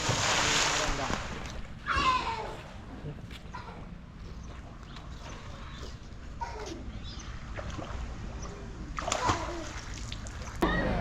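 A person jumps into a private resort swimming pool with a splash, followed by more water splashes and sloshing while people talk and call out nearby.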